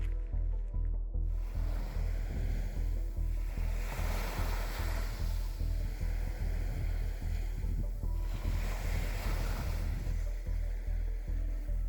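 Calm sea waves wash onto an empty beach in early morning on the Spain–France coast in late May, slow swells rising and fading in a steady roar with a constant low rumble beneath.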